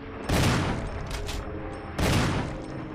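Two heavy gunshot blasts in Resident Evil HD Remastered, loud and booming about two seconds apart, each trailing off in a long rumbling decay.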